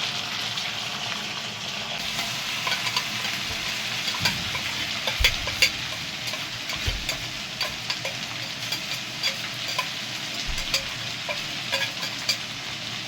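Ground masala paste for a crab curry sizzles and fries in oil, a steady close crackle and hiss with occasional stirring scrapes, and no talking.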